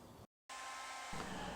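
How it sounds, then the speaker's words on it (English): A handheld hair dryer blasts a steady, loud rush of air, cuts out abruptly into a brief silence, then roars back on at full strength, close to the microphone. "So you can see the hot air coming from the hair dryer when I turn it on, and the heat released when I turn it off."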